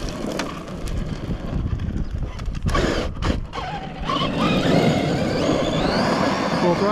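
An electric 8S HPI Baja RC car with a loose turnbuckle, its wheels spinning at full throttle outdoors. The noise is a loud, continuous, rough broadband roar mixed with wind buffeting and a few brief dips.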